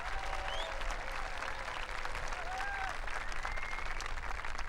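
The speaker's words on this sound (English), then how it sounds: "Give a big round of applause for the officers of the senior class." A high school commencement crowd applauds the senior class officers, sustained mid-distance clapping with a murmur of voices and a few whistles running through it.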